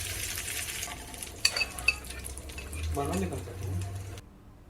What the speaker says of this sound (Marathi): आता मिक्स करूया छान असं भाजून घेऊया आणि हा खमंग तडका आहे चटणीवर देऊन घेऊया